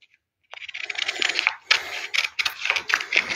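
Scissors cutting out traced paper pattern pieces for a quilt block, a close run of crisp snipping and rustling clicks in short bursts, with no talking.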